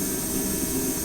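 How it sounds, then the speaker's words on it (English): A 700 bhp Nissan Skyline R33 engine drones close by in a dense, uneven rumble, sounding rough and labored for a brief moment at low revs from a coil pack misfire. "It's running really rough. It sounds like a coil pack misfire,"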